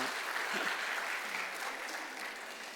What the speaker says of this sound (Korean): 제가 박수로 환영하도록 하죠